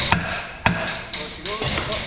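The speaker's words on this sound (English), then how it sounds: "I'm gonna have to whack it with a hammer." A hammer whacking a part from a Scania V8 to drive a disc out, with about five sharp metallic strikes at an uneven pace, close and loud.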